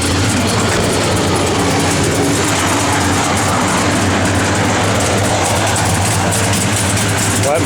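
The V8 engine of a 1966 Chevrolet El Camino runs loud and close, a steady, heavy rumble with a rough, lopey low-end throb that holds throughout.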